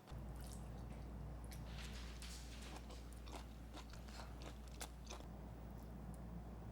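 Someone eats a spoonful of squash and beef over rice, with close, crisp bites and moist chewing crunches repeating irregularly over a quiet room and no talk.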